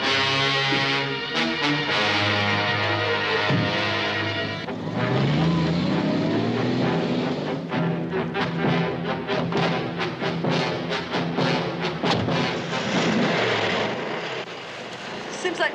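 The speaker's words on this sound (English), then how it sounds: "Sounds like my motor being revved up" A car motor revs hard and close by, rising and falling in loud surges over a constant engine roar, with short sharp bursts near the end as the revving continues.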